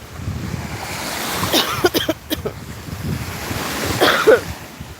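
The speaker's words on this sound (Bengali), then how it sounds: "সমুদ্রের গর্জন শুনতে পাচ্ছেন নিশ্চয়ই" Waves roll onto the shore of a wide, sea-like lake, a continuous washing roar mixed with wind buffeting the microphone and a few louder surges.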